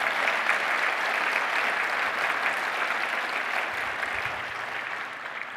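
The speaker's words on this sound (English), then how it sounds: "Let's give them a round of applause." Steady, dense audience applause at a conference closing keynote, loud and sustained throughout with no voices over it, easing slightly toward the end.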